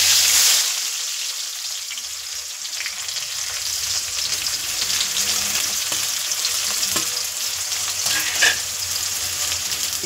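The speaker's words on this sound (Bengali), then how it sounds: "এবার ওই তেলেই পেঁয়াজটা দেবো।" Onion hits oil already used for frying elephant foot yam and sizzles loudly, a dense, continuous crackle that swells right after it goes in and stays steady, with a few stir sounds and no voices.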